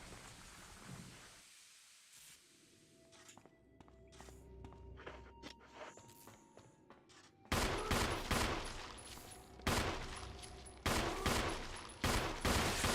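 Gunfire in Resident Evil Remake: after a quiet stretch with footsteps and small clicks, a run of loud, regularly spaced shots booms out, each with a decaying echo.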